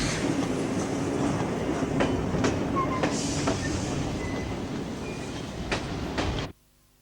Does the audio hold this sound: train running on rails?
yes